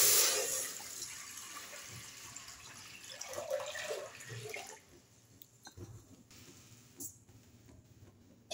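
Water poured into two pots on a gas stove, a steady splashing gush that starts loud and tapers off, followed by quieter drips and small clinks.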